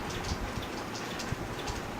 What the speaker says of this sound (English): Do you hear the rain? It just started pouring down.